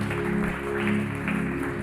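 A church congregation claps together at a Spanish-language evening service, a short steady stretch of applause blended with a sustained low keyboard chord.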